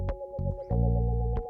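A synth sound in a hip-hop beat holds a steady high tone while thick bass-heavy hits land underneath, two short punches and then a longer sustained one, loud and alone.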